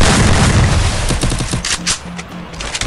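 Rapid, loud gunfire in a video game, dense blasts and booms crowding together, then sparser sharp shots toward the end, close and with no talk over it.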